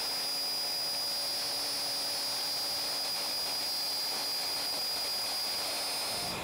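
A machine cutter working material at cutter speed three produces a loud, continuous high-pitched whine with a rough, grinding texture that holds steady throughout, with no voices.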